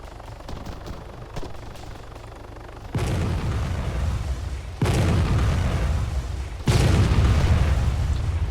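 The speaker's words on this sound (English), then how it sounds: "I got that vehicle with the artillery" Three heavy artillery explosions in the ArmA 3 video game, each a sudden loud boom followed by a long rumbling roar, arriving about two seconds apart after a quieter stretch of faint background noise.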